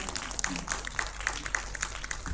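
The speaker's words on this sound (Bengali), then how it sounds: "মহুয়াদের জন্য জোরে একটা হাততালি" Applause from a concert audience for the performers of a Tagore dance drama, a sustained wash of clapping with scattered sharper claps, moderately distant and steady for the whole stretch.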